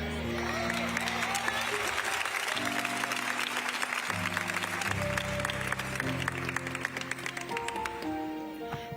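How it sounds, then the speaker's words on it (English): A congregation claps along at a memorial service in a church, with steady broadband applause running throughout under organ or choir music and a voice. "Come on, clap your hands again"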